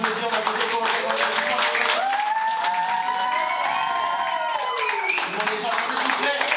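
A live audience at a comedy street show applauds and cheers, with dense sustained clapping and crowd noise, while someone talks over it.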